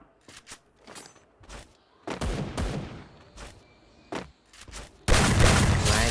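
Gunfire in the mobile shooter Free Fire arrives in short separate bursts and single cracks, then ends in a loud sustained volley of rapid shots.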